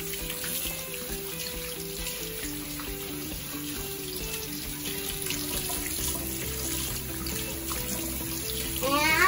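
Water runs steadily from a tap while a child washes hands, a soft continuous flow under background music that swells slightly toward the end.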